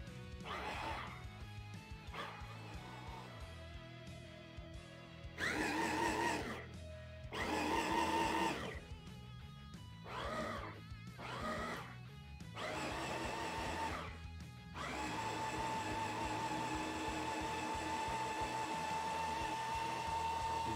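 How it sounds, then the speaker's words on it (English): A food processor blends cranberry sauce mixture in loud, steady bursts of whirring motor noise, switching on and off several times before running continuously to the end. "Once you've got the mixture in, put on your food processor lid and just"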